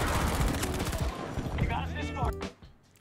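Rapid gunfire rings out in a first-person shooter video game, close, loud bursts of shots over the first couple of seconds that end abruptly, with a voice speaking over them.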